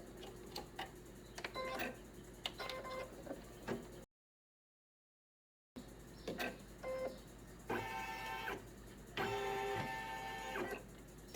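Embroidery machine stitching a red satin finish, a steady mechanical clatter of rapid needle strokes that runs in bursts, pauses briefly partway through, then resumes in denser, louder runs near the end.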